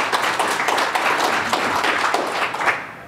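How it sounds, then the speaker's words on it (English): An audience at a tech keynote gives the speaker a round of applause, steady dense clapping from many hands that fills the room throughout without a clear fade. "Thank you for that smattering of applause"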